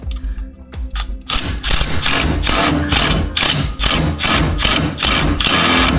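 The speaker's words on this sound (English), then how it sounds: "Let's see if I can get this one down here out with the old impact" An impact wrench working on a headlight screw of a C4 Corvette, close and loud, with a few short bursts at first and then a long run of rapid, hammering rattles.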